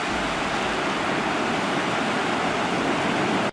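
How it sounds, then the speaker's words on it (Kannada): A flooded river in Belagavi district overflowing after heavy rain, a loud continuous roar of rushing water close by that cuts off abruptly at the end, with no voices. "ಬೆಳಗಾವಿ ಜಿಲ್ಲೆಯಲ್ಲಿ ಸಪ್ತ ನದಿಗಳು ಉಕ್ಕಿ ಹರಿತಾ ಇರುವಂತದ್ದು."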